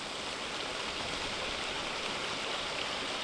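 A river in Neadalen, Norway, visited on a fishing trip, flows with a constant broadband rush of water, steady and unbroken, with no voices over it.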